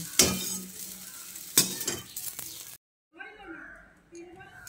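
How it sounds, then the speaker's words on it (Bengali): Soybean chunks sizzle and crackle in hot oil, with bursts of stirring scrapes; after a brief cut, a person talks over softer frying. "এবার সয়াবিনটাকে দিয়ে খুব ভালো করে ভেজে নিচ্ছি।"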